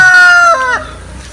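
A rooster crows loudly and close in a flooded backyard farm after a typhoon, its call breaking off partway, with a few softer clucks trailing after.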